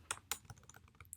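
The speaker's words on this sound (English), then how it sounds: "what we are going to do now is to type MySQL admin" Quick, close keystrokes on a computer keyboard, several taps in about a second, as a MySQL admin command is typed into a terminal.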